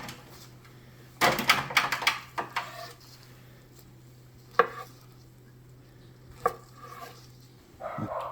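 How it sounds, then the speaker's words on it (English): A knife chops smoked Bung Fritz sausage into bite-sized chunks on a board, a quick cluster of close, sharp cuts followed by a few slower, spaced single chops over a low steady hum. "we'll get them diced up now. You just want these in bite-sized chunks."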